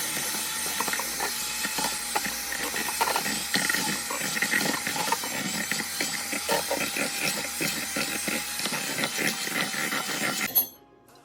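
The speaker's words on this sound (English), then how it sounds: "And now I'm gonna stir this up with my mixer." A kitchen mixer whirs steadily while stirring a chimichurri steak sauce, a loud, continuous mechanical rattle that runs alone for about ten seconds before cutting off abruptly.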